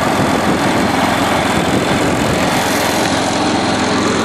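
A John Deere 210 lawn tractor with a plow blade runs steadily nearby, its small engine giving a loud, even, buzzing drone with no pauses.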